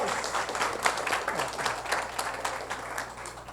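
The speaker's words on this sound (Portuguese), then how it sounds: "Vamos bater palmas para nós." Audience applause at a business strategic planning seminar, a continuous wash of many clapping hands with faint crowd murmur and a low steady hum underneath, sustained at even loudness throughout.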